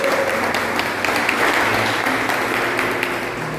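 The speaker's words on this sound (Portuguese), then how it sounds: "dê uma grande salva de palmas para Deus" Applause from a church congregation during a Catholic Mass homily, a steady, dense wash of clapping that fills the room for several seconds with a faint tone or voice lingering underneath.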